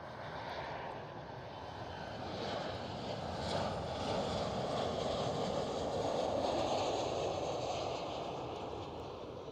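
A Transavia Boeing 737 with split winglets at Amsterdam Schiphol gives off a steady, broad jet-engine roar at moderate distance, swelling slightly and holding throughout.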